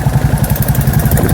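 A motorcycle engine idles close by with a loud, regular thumping pulse repeating several times a second, steady and uninterrupted over the short stretch.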